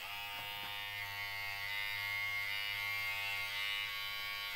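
Kemei KM 1996 or KM 1986 electric hair clipper runs with a continuous high-pitched motor buzz, steady and close, holding for several seconds without pause or voices.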